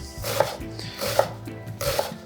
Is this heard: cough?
no